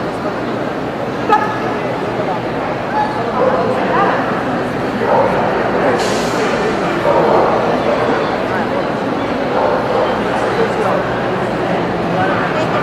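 A working dog on a search exercise gives repeated yips and whimpers over a dense, noisy outdoor background. Someone talks at moderate distance.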